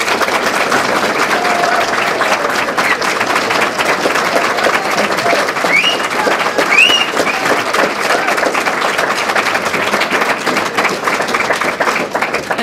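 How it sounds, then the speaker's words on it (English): A forum audience gives sustained, even applause for the sheriff candidates, a dense wash of clapping hands that holds steady throughout with light crowd murmur. "our candidates deserve a big round of applause"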